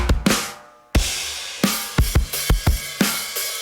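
Programmed drum beat built from drum samples: a crash-like hit opens, then a punchy groove of kicks and snappy snares in steady rhythm, loud and dry with no voices.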